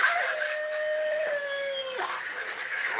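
A long, wavering werewolf-like howl rises and falls over about two seconds, then breaks into a shorter trailing cry, close and loud with no talking.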